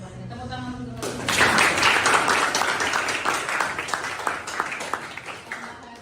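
A classroom of students bursts into applause after a teacher's prompt, dense clapping from a nearby group that swells then slowly thins, with a voice briefly before it starts.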